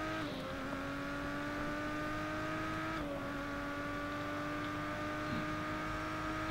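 Simulated race car engine in Race Driver GRID holding a steady high whine with clear harmonic tones, dipping briefly at one gear shift, then continuing alone without any voices.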